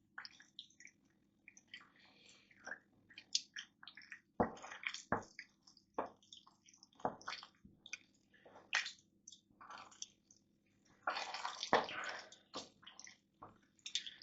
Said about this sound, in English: now we'll give that a good stir, mix that in nicely